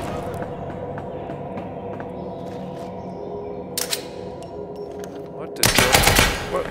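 Gunfire in the video game Fargone, scattered sharp shots and a brief burst midway, then a loud rapid volley near the end, heard over a low steady game ambience.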